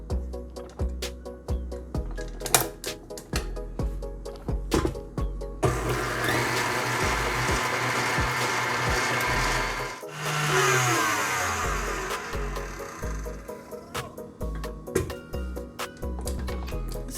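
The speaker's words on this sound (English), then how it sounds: "Now we're going to whisk this until it's pale in color." A chocolate lava cake batter of sugar and vanilla is whisked until pale, heard as a loud, steady whirring motor that changes pitch as it runs, with clattering bursts before and after.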